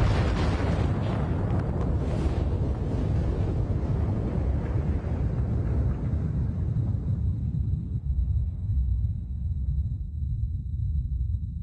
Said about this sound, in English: They call it a supernova, an explosion so bright it outshines entire galaxies.